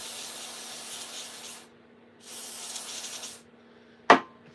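An aerosol cleaning spray can hisses in two long, steady bursts close by, each lasting over a second with a short pause between, followed by a single sharp knock or click; no one speaks.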